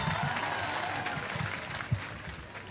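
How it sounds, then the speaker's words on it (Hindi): Audience applause at a ghazal and poetry recital, steady broadband clapping from a seated crowd filling the whole stretch at moderate level, with no voices over it. "उनके लिए ज़रा तालियां बजा दीजिए।"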